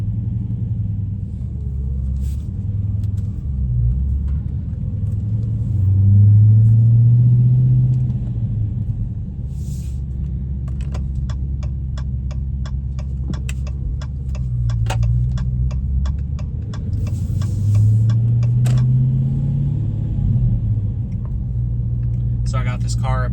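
A Dodge Challenger Scat Pack Widebody with a stick shift rumbles steadily from inside while driving, its low engine note swelling at times, with a fast clicking like a turn signal partway through.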